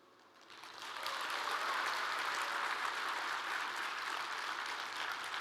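Festival audience applause at a year-end company event, a dense, steady clatter of many hands that swells over the first second and then holds at full strength with no voices on top.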